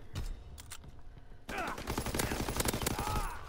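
Rapid automatic gunfire in the World War II shooter Call of Duty WW2, bursts of loud close shots that intensify midway into sustained firing with mechanical clatter.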